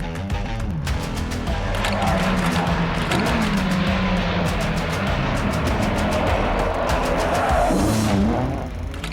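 A rally car, a Ford Cortina GT, races along a stage in England, its engine revving hard and rising and falling in pitch with tyre noise and clicking crackle throughout, loud and close.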